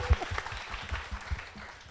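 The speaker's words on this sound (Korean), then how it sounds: "어마어마한 성적을 기대하면서 박수 한번 주세요." A live audience at a baseball talk-show taping gives a short burst of applause, fairly faint and patchy, with scattered claps fading over about two seconds.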